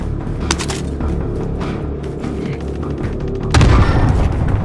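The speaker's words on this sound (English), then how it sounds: "I'm taking fire!" Gunfire and heavy booms in Warzone on Rebirth Island, with scattered shots in a busy firefight and a loud, close blast near the end over a rumbling background.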